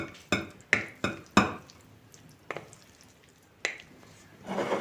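A few sharp clinks and scrapes of a spoon against a salad bowl, spaced irregularly, with soft squishy mixing of salad ingredients in between and a brief rustle at the end.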